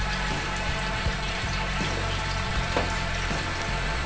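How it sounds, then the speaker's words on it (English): Groundwater pours steadily into a freshly dug well that is filling with sand, a continuous close rush and splash of running water with no talk. "the water was still running in like crazy"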